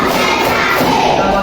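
A classroom of students clap their hands together in rhythm, a dense steady patter of many hands close by that continues without pause.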